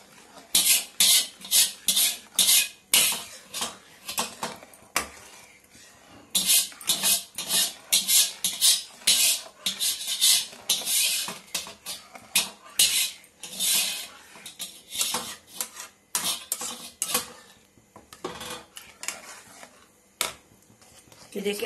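Homemade mawa being stirred into sugar syrup in a pan for coconut barfi, with repeated scraping and rubbing strokes of a spoon against the metal pan, uneven bursts close up and continuous.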